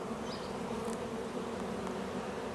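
Honey bees in a hive troubled by wax moths, a dense steady buzz filling the whole moment at close range with no voices.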